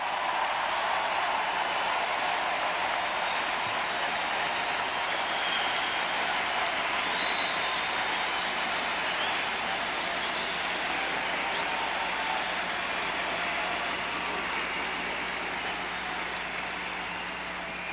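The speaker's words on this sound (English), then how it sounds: "You cheer now" Large convention hall crowd at the 1996 Democratic National Convention cheering and applauding in a sustained, dense roar of clapping that holds steady throughout, fading slightly at the end.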